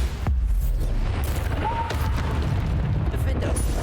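Spell blasts from the Hogwarts Legacy video game go off as dull booms and bursts, a few sharp hits among continuous game noise, with a voice calling out over them.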